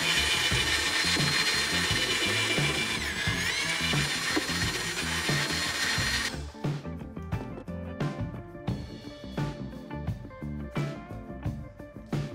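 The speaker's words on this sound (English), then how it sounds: "Start polishing the headlight." A power drill spins a cardboard disc loaded with polishing paste against a car headlight. It gives a loud, continuous high whine for about six seconds, then drops to quieter uneven grinding and scraping.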